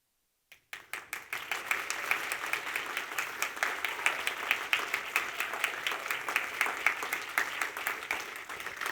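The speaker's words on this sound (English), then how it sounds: "We're going to bring the room together with applause." At a speakers bureau showcase, an audience breaks into applause on cue after a moment of silence, the clapping quickly swelling into a steady, fairly even rhythm of many hands that carries on throughout.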